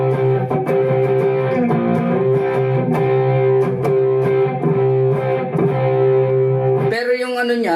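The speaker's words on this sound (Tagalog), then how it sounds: "Pag nagdagdag pa ako ng isang overdrive," An electric guitar played through a Mvave Tank G with analog pedals and an added overdrive rings out with thick, saturated sustained chords and bending notes, loud and close, ending in a brighter wavering lead phrase.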